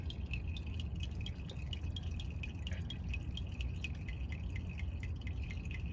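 Transmission oil dripping from the 10mm drain plug of a 2011 Toyota Corolla, a quick, fairly regular series of small close drips over a low steady background hum.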